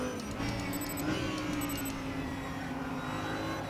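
An Audi R8 LMS GT4 race car from 2020 in RaceRoom holds a steady engine drone in fourth gear on a downhill sector, a constant mid-pitched hum with no shifts or breaks.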